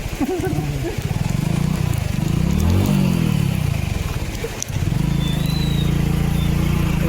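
A motorbike engine drones loudly and steadily, rising and falling in pitch as it rides ahead along a rural road in the Konkan countryside during rice planting season, with a brief dip near the end.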